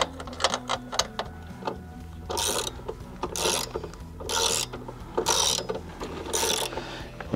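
Wrenches tighten bolts on Quadratec rocker guards for a Jeep Wrangler JK, giving repeated ratcheting clicks and scraping metal bursts close by, in an uneven rhythm with no speech.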